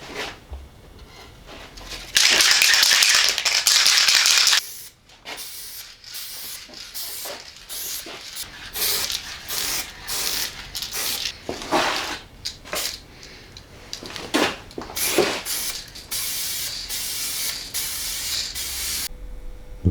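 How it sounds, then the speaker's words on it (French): A can of black spray paint gives one long loud hiss, then a run of short bursts and rattling shakes, close by, as screws, an edge and a seal on a speaker cabinet are coated. "Et je vais foutre un coup de bombe noire pour prendre les vis,"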